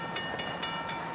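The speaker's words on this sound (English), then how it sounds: "You can hear the oncoming train chugging down the track." An oncoming train rumbles along the track at a road crossing, a steady heavy roar with a faint regular rhythmic clatter, continuous and moderately distant, with no talking.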